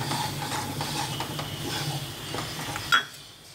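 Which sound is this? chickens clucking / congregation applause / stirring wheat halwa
stirring wheat halwa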